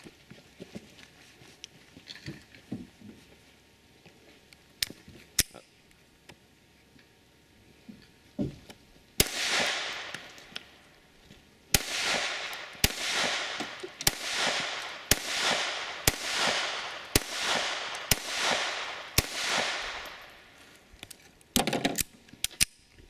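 Outdoor gunshots with ejected shells: a few scattered shots, then a rapid, evenly spaced string of sharp cracks, each trailing a short ring, loud and close.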